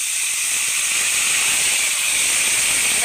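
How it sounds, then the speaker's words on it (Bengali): Vegetables for a Bengali spiceless shukto hitting a hot pan, a loud continuous hiss and sizzle that holds steady for a few seconds, close up with no talking. "এবার আমি সবজিগুলো এখানে দিয়ে দেব।"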